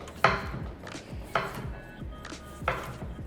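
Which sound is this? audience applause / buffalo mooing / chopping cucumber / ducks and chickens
chopping cucumber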